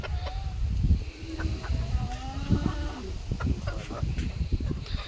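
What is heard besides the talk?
Yokohama chickens clucking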